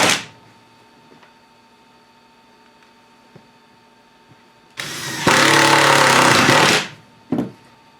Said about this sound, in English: so I'm going to go ahead and drill a hole through them